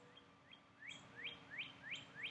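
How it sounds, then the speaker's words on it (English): Birds chirp in a park: a series of quick, rising tweets repeating steadily, fairly close and clear over a soft, constant outdoor background hum. "Hear the birds?"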